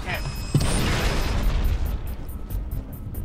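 A sticky grenade detonates during a Halo match with a jetpack in play, a sharp boom at the start followed by a rumbling, noisy tail of game effects, loud and close, with a voice talking over parts of it.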